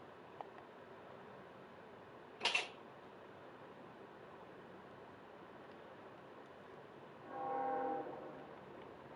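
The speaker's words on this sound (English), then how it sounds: "Ladies and gentlemen, the train." A train in Kerbal Space Program, heard as a faint low mechanical hum with a brief sharp burst, then a soft swelling horn-like tone near the end.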